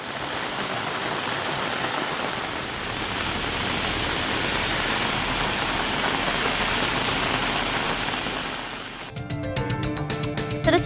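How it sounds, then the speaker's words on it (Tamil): Heavy rain pours over town streets and nearby village areas at the start of the new year, a dense, steady hiss for about nine seconds before the sound shifts to a closer, clattering patter. "புத்தாண்டின் தொடக்கத்திலேயே பெய்த மழையால் விவசாயிகள் மகிழ்ச்சியடைந்தனர்."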